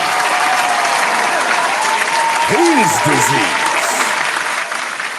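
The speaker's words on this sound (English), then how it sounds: "Round of applause for that." Applause from a studio crowd on a mixshow, steady and dense throughout, with a tonal music bed and a voice speaking over it.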